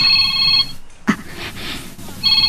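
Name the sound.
cellphone ringing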